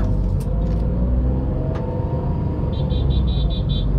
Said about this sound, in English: just like that, it shifts to second gear